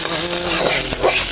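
Food fries in a pan for a coriander leaf bharta, giving a loud, close, continuous hissing sizzle with small crackles and no speech.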